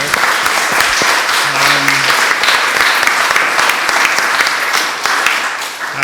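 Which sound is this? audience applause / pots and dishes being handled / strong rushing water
audience applause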